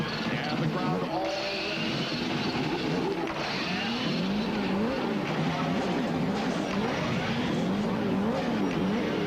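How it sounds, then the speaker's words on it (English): CART Indy-style race cars on the grid at the 1992 Portland race fire up and idle, a dense layered engine drone with rising revs, heard at a distance under crowd and PA noise. "Gentlemen, start your engines."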